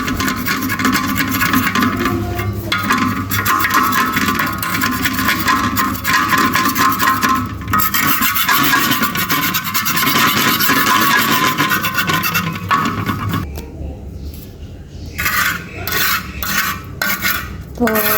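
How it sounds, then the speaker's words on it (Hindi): A knife scrapes built-up oil off a hot iron tawa, a loud, close, continuous harsh metallic scraping with faint clinks that breaks into shorter strokes toward the end. "छुरी की मदद से आपने गरम तवे से ना अच्छे से ये जो ऊपर ऑयल जो जमा हुआ होगा इसको आपने अच्छे से खुरच लेना है छुरी से"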